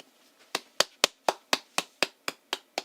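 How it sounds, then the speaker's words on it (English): A single pair of hands claps about ten times in an even, brisk rhythm, each clap sharp, close and dry, with near silence between them and no talking. "That's clapping"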